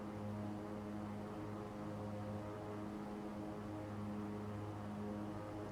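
A Beechcraft King Air 350 turboprop drones steadily at takeoff power, a constant propeller and engine hum with steady tonal whine heard from inside the aircraft, no talk.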